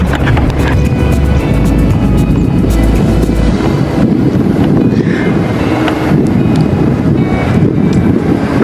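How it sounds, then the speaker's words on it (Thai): Loud, steady wind roars and buffets across the microphone while riding a motorbike outdoors in Chiang Rai, Thailand, a continuous rush with low rumbling gusts and no clear talk. "สบายลมเย็นเย็นเวอร์"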